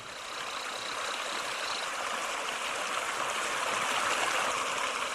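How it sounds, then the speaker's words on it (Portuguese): A waterfall in the Atlantic Forest gives a constant, even roar of rushing water, steady and unbroken, moderately loud and heard alone. "o rugido constante da catarata"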